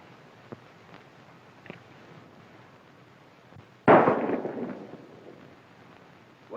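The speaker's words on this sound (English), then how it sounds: "Oh, this old gun ain't no good." An old gun fires once in a single sharp, loud report at mid-clip, with a decaying tail that stands alone after a quiet stretch of faint background.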